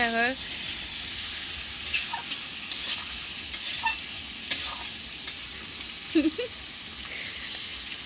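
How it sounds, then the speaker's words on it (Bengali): Chicken and potatoes stirred and fried in a pan, a soft steady sizzle with intermittent scraping strokes of a utensil, fairly quiet and close. "এবার নাড়তে থাকি চিকেন আর আলু দিয়ে মাংসটাকে কষানোর জন্য।"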